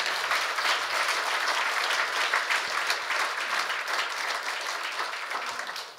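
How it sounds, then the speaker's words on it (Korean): Audience applause fills a Korea University labor-management-government forum hall, steady dense clapping from a large crowd throughout, loud and sustained before tapering slightly at the end. "박수도 좀 쳐주시고요."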